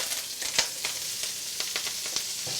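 Vegetables and sauce sizzle steadily in hot oil in a wok for lo mein, with a constant frying hiss broken by a few sharp crackles and spatters up close.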